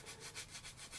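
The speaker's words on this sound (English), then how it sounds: "do a little bit of filing on the sides" Filing along the sides of a plastic kitbash model of a Slingshot 3-wheeler: steady back-and-forth rasping strokes in a regular rhythm, close and fairly quiet, with no voices.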